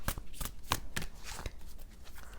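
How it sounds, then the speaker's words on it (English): A giant deck of oversized tarot cards shuffled by hand in a run of quick riffling bursts, close and moderately loud, with no voices. "This is a hard deck for me to shuffle"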